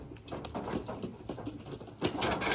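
Pigeons in a loft coo faintly and low, with soft patter and rustling around them, heard at a distance rather than up close.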